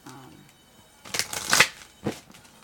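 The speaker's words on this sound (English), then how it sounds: "let me shuffle all of them and cut them all real quick" A deck of tarot cards is shuffled by hand up close, with a few crisp riffling bursts in quick succession after a brief quiet start and a short final burst.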